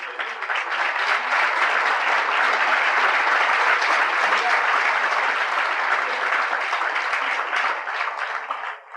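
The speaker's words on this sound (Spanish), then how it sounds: "denle un aplauso al Señor si la agarró" A church congregation bursts into sustained, dense applause at a religious service, loud and steady for about nine seconds before tapering at the very end.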